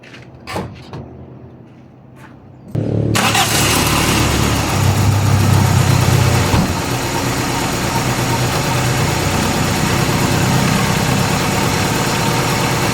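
A Toyota Corolla with the 4AFE engine cranks briefly after a few quiet handling clicks, then catches and settles into a loud, steady high idle just after an oil change, heard close with no talking.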